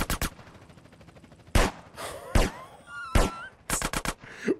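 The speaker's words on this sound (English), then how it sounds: "Why are you shooting our homie?" Gunfire in GTA San Andreas Definitive Edition during a street-gang mission: sharp, loud bursts of shots, some in rapid clusters, with quick gaps between volleys and faint game voices shouting in between.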